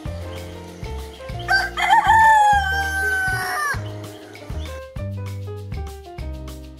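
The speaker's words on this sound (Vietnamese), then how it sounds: "Con gà." A rooster crows loudly and clearly over a steady musical backing, its long rising-and-falling call ringing out once in the middle of the clip while the beat continues underneath.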